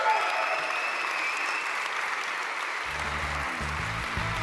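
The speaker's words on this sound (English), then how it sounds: "Dear audience, make some noise for Neil!" Audience applauding a speaker at a talk on growth hacking, a steady wash of clapping from a crowd that stays even throughout, with a low rumbling thump entering near the end.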